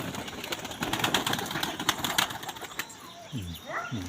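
Pigeons' wings flap in repeated bursts close by, followed near the end by a few low cooing calls.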